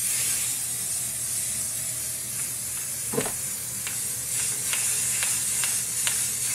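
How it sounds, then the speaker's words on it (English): A continuous hiss of black spray paint from a nearby can coating a TV tray table, with faint clicks and taps scattered through the steady spray. "I'm going to spray paint this black"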